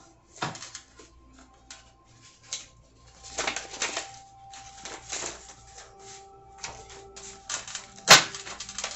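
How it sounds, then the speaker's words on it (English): Soft, irregular riffling and flicking of cards in bursts, with a sharp snap near the end; close and fairly quiet, no talking. "Oh God, these are a little harder to shuffle."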